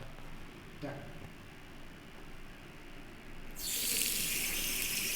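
Steady background hiss, then a tap in a resort washroom turns on partway through and water gushes loudly and continuously, close up.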